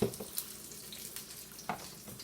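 Green onions and garlic sizzle in a pan as a fish steak with gravy is cooked, a soft, steady frying hiss with occasional faint pops and stirring sounds.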